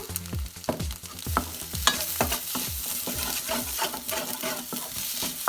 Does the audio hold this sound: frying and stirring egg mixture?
yes